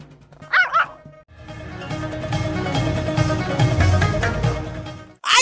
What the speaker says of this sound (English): Chihuahua! That's the biggest dog I've ever seen.